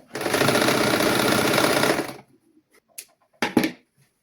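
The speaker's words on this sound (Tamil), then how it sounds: "அதாவது 1 இன்ச்சு அளவுக்கு நான் இதில் மடித்து தைக்கிறேன்" A sewing machine stitches a folded one-inch hem on children's clothing in one loud, fast, continuous whirring run of about two seconds, followed by a few quiet handling clicks.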